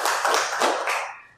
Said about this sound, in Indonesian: kita berikan aplaus untuk kelompok 3